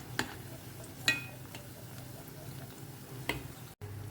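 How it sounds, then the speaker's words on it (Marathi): Pakoda fritters fry in hot oil, a steady low sizzle with a few sharp pops and clicks, close and moderately quiet. "जे सायज तुमकां व्हडले धाकटे ते प्रमाणे फ्राय करून घेवंक जाय सो टर्न करून घेयात"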